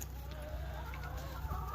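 Chickens cluck softly and intermittently inside a greenhouse tunnel, faint and fairly distant over a steady low hum.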